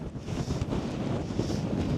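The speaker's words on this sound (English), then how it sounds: "But God damn, it's pretty windy." Strong wind buffets the microphone on the Silvermines Mountains in Tipperary, Ireland, during a hill hike: a continuous, loud, roaring rush with slight gusty swells and no pauses.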